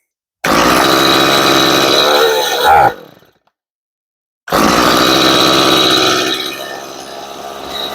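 A tuned-up chainsaw engine revs loud and close in two bursts, a sustained high roar that drops away into a couple of seconds of silence before a second rev that gradually eases off.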